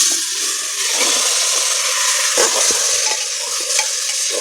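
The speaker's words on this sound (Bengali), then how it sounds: "এবার আমি মাংসটা দিয়ে দেবো।" Mutton pieces hit hot spiced oil in a pan and sizzle steadily while a spoon stirs and scrapes, with a few sharp clinks and knocks over the constant frying hiss.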